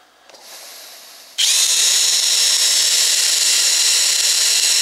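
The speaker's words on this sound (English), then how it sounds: "I'm going to switch over to voltage with the drill driving it." A power drill driving a small homemade generator whirs up after a brief quieter hum, then runs at a steady high-pitched whine with a low constant drone underneath, loud and close.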